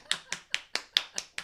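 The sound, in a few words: clapping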